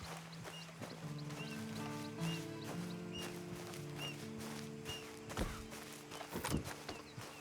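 Horse hooves clip-clop at a walking pace in the Red Dead Online video game, a steady rhythm of footfalls close by, set against sustained low musical tones and scattered game ambience.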